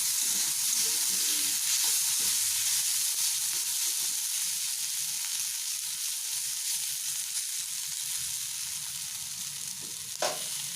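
Potato and pointed gourd fry in a pan with masala, a steady close sizzle with scraping stirring strokes, ending with a short clatter.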